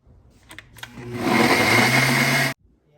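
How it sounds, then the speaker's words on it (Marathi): A mixer grinder blending sesame and jaggery whirs loudly for about a second and a half, then cuts off abruptly, preceded by a few clicks and handling noises. "हे बघा आपण हे मिक्सरला वाटून घेतलं आहे"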